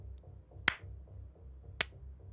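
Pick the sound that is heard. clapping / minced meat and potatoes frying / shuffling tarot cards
clapping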